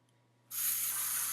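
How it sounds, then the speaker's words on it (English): An aerosol hairspray sprayed onto short hair starts suddenly and continues as a steady, bright hiss, close and fairly loud. "I'm just going to lightly shake my hair and spray."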